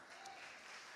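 A church congregation applauds, a steady, dense wash of clapping that stays even throughout the short stretch, fairly soft and a little distant, with no voices over it.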